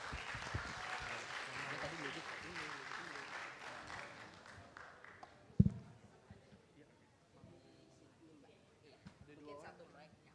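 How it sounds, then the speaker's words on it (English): A round of applause from the audience at an orientation day for international students, a soft patter that fades out within about five seconds, followed by a single loud knock and then a voice speaking. "Give them a big round of applause."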